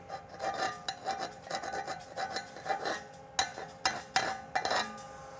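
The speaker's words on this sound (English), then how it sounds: "Got a little slag hiding up here on the top, but it's okay. I'll get that out." Chipping and scraping slag off a 7018 weld bead on half-inch steel plate with a backing strip; a series of close metallic rasps and clinks in an irregular rhythm, with no one speaking.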